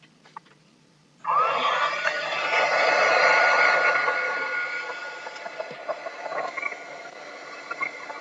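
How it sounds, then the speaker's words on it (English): A hair dryer runs steadily for several seconds to quick-dry a craft Easter egg wall decoration, loud and close with a slight rise and fall in its whir, preceded by a brief quiet moment. "Just quick dry it so I don't touch it."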